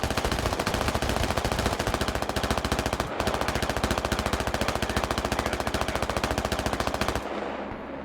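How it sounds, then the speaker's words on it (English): A machine gun fires in a tank battle video game set in Narva, a loud rapid rattle of shots running almost continuously, with one brief break partway through, before cutting off near the end. "RPGs shredded by the machine guns."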